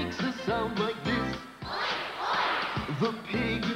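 Singers imitate a pig's oink in a children's concert song, with short grunting snorts between bursts of sung melody and a noisy crowd-like swell in the middle.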